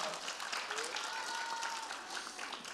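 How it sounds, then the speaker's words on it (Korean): Audience applause at a youth festival talk show as a district official is introduced, a steady, sustained wash of clapping with a faint tonal line and some voice-like sound mixed in. "박수 부탁드립니다"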